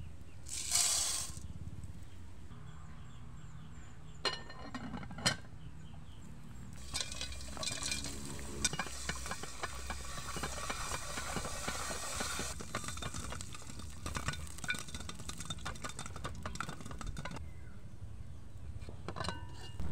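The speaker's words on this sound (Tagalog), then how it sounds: "Ilagay dito ang 1/2 cup na popcorn at lutuin ito." Half a cup of popcorn kernels cooks in about a third cup of hot oil in a pot, giving a steady sizzling hiss full of sharp, dense crackles and pops that builds over twenty seconds. No one talks over it.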